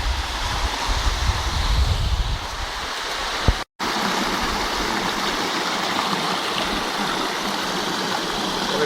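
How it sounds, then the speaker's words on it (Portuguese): Roaring waterfall rushing at Chapada Imperial in Brazil, a loud, steady broadband wash of falling water with a brief cut partway through. "é cachoeira pra caramba"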